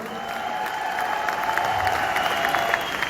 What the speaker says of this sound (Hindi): भारत सर, संध्या भाभी के लिए एक बार जोरदार तालियां